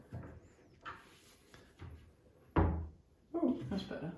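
A cupboard door with adjustable hinges being swung and moved, giving scattered knocks and one sharp louder clunk of wood against the frame, with a person's voice and handling noise mixed in.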